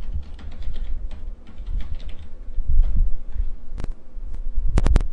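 Soft clicking of keys on a computer keyboard as a password is typed, a run of light taps under a low hum, with a few sharper clicks near the end.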